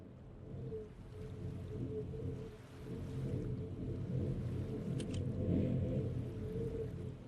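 Steady low wind rumble in the Myst video game, a continuous hollow moan near the wind hole that swells slightly and holds throughout with no voices.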